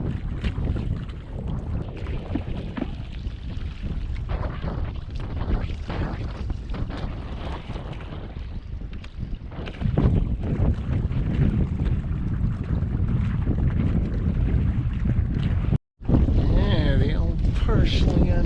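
A heavy cruising sailboat heels through gusty wind near Hadley Harbor, with loud wind buffeting the microphone and water rushing along the hull, steady and close throughout, broken by one brief dropout near the end.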